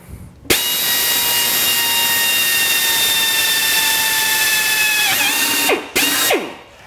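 A power drill whirs at a steady high pitch for about five seconds, winds down as it bites into a small-block Ford's metal oil pan, then starts briefly again.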